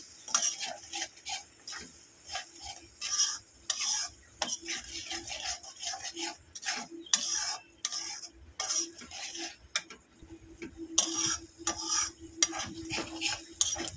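Spice paste of ground coriander with ginger and garlic paste is stirred and fried in a pan for doi rui, with repeated scraping strokes of a utensil over a steady, close sizzle and no talk.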